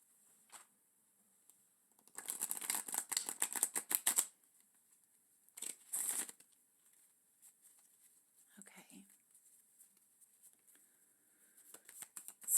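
Tarot cards being shuffled, close soft riffling bursts of rapid papery flutters in two main bouts separated by quiet, with faint rustles and a whispery background hiss.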